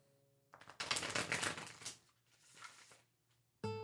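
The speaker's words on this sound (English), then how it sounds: "If you shuffle the 78 cards in this deck right here in my hand, when I do this and shuffle them" A 78-card tarot deck is shuffled by hand, giving a loud, crisp ripple of riffling cards that fades out, a second softer riffle, then a sharp final snap.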